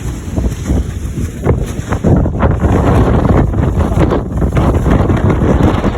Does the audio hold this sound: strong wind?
yes